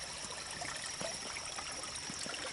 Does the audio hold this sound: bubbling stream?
yes